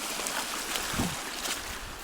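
Stream water rushes and trickles along a trail dotted with small waterfalls in the Great Smoky Mountains, a steady close splashing wash with no voices.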